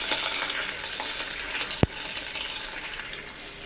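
Ginger garlic paste frying in a pan for fish curry, a steady close sizzle throughout with one sharp clink of a spoon partway through.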